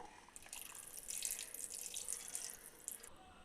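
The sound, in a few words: pouring tamarind water into fish curry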